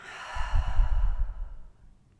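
A single deep, slow exhale during a guided breathing exercise, a soft breathy rush lasting over a second and fading out, close and clear with no talking.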